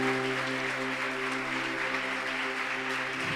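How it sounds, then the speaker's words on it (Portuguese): A church congregation claps together in sustained applause at a worship service, a steady, dense wash of hands under a faint held musical tone, with no voices on top. "Eu gostaria que você desse uma salva de palmas para Jesus."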